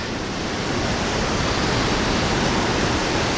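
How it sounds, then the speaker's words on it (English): Powerful rushing water pours down from the mountains into natural pools at the Fonts d'Algar on the Costa Blanca, a steady, loud, broadband roar with no pause throughout and no voices. "The volume of water and the speed of which is coming down from the mountains"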